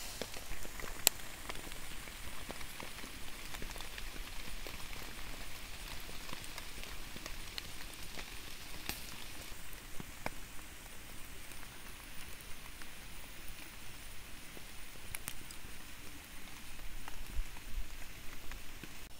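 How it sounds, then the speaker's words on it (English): Steady rain patters on a tarp over a hammock campsite, a dense, even drumming with occasional heavier drops, continuous throughout with no voices. "Under the tarp in the rain."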